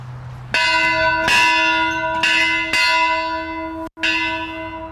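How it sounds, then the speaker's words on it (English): A bell rung to open a university coaches show clangs repeatedly with a bright, sustained metallic ring, about five loud strikes overlapping their decays, close and clear with no talking. "we ring the bell not just to start the UTRGV Coaches Show"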